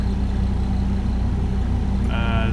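A 1985 Mercedes 300D turbo diesel engine idling, a steady low rumbling chug that runs evenly and close throughout, with a faint higher whine creeping in near the end.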